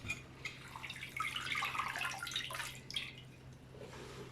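Water poured from one pot into another to rinse soaked vegetables in a home kitchen, a faint splashing trickle that swells and fades over a few seconds.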